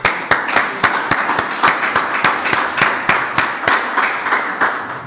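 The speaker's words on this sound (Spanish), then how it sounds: "Yo creo que se merece un aplauso." A church congregation applauds during a Spanish-language sermon, with steady sharp hand claps rippling evenly for several seconds, fairly close and without talk.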